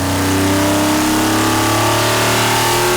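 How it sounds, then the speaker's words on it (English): A Jeep 4.0-liter inline-six engine, the AMC 242, runs loud and close with a steady, deep mechanical drone that climbs slightly as it revs, with no talk over it. "Introducing the AMC 242, otherwise known as Jeep's 4-liter inline 6."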